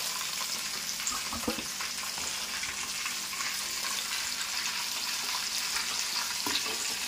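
Capsicum and chicken pieces frying in oil for a curry, with a steady close sizzle and crackle, brief stirring scrapes, and no voices.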